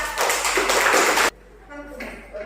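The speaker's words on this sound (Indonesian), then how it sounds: "Tepuk tangan dulu untuk kelompok 1." A classroom of students claps for the first presentation group, a short burst of dense clapping that cuts off abruptly, followed by faint voices and light taps.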